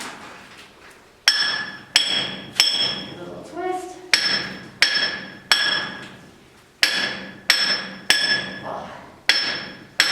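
A hammer striking drill steel by hand to bore a hole in rock inside an old copper mine: sharp ringing metallic blows, about a dozen, at a steady unhurried pace, each decaying briefly, with a short spoken remark between strikes.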